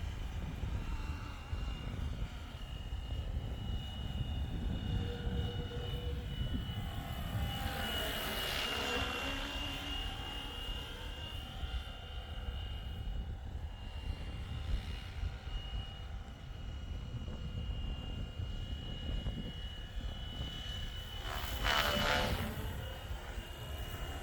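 A Flywing Bell 206 RC helicopter with a two-bladed rotor flies outdoors, a steady buzzing whine with blade chop that swells and fades as it passes nearer and farther over about twenty-four seconds.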